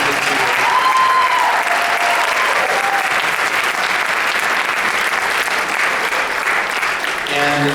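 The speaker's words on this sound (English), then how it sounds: "Could you help me in giving her a round of applause?" A high school choir awards and senior send-off audience gives a round of applause: loud, thick, continuous clapping from a large crowd that holds steady for the whole stretch, with a few voices faintly audible beneath.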